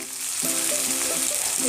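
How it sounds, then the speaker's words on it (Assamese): Eggplant frying in mustard oil in a pan as it is stirred, a loud steady close sizzle with scraping stir strokes running through it, no talking. "এতিয়া মই ইয়াতে মাছৰ তেলখিনি দি দিম। তেলখিনি দি লৰাই দিব ভালকৈ।"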